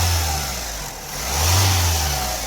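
An Opel Insignia 1.6 diesel turbo engine with a faulty, bursting turbo pipe rumbles close by, idling and then revving up and easing back down in a smooth swell.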